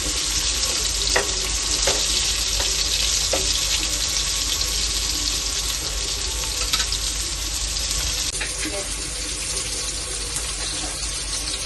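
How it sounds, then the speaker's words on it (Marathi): Black pomfret fish shallow frying in a pan, a steady close sizzle with occasional light clicks and stirring noises running throughout without any talk. "इथून आपल्याला एक साईडने भाजून घ्यायची चांगली"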